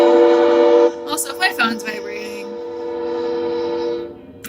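A passing cargo train sounds a loud, sustained multi-tone horn nearby, the blast cutting off as a person talks over it, then the horn returns more softly and fades.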